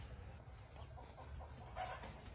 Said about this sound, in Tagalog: Ano na may manok dire?